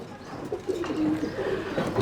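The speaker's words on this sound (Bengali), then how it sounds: "আমি আমাদের উস্তাদের একটা কবুতর দেখাই আপনাকে" Pigeons coo softly in a pigeon loft on a farm in Chittagong, a few low, murmuring calls close by over faint background noise.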